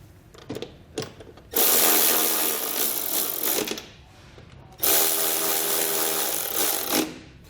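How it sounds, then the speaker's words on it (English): Socket wrench running a 13mm socket onto flange nuts on truck running board mounting brackets, two long loud mechanical whirring bursts after a few short clicks, close up with no speech. "tighten down our flange nuts with a 13mm socket"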